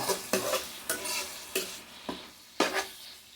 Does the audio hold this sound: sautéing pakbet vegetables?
yes